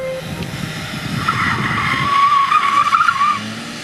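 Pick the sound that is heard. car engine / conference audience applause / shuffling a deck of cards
car engine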